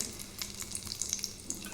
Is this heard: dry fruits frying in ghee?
yes